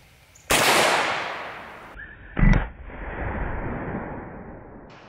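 A single loud, close AK-74 rifle shot firing a 5.45x39 round at a steel toe boot outdoors, a sharp blast with a long fading tail, followed by a duller thud of impact.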